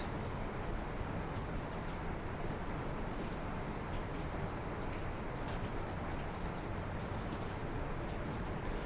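Steady rain pouring down, a dense continuous hiss of falling water filling the whole scene evenly, close and unbroken with no voices.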